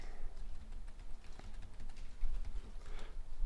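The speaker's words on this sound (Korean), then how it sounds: "카드 번호를 치시면" A card number is typed on a computer keyboard in soft, quick, irregular key taps with a low room hum beneath.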